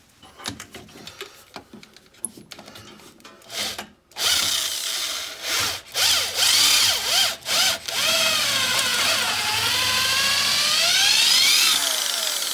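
Scattered scraping and clicking give way to a power drill whirring loudly, its motor pitch rising and falling in bursts, then grinding steadily through a Fox Body Mustang's body.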